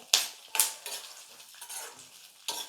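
Oil sizzles steadily while a metal spoon scrapes and stirs a pan in repeated sharp strokes, frying chopped garlic and nuts, close up, no voices.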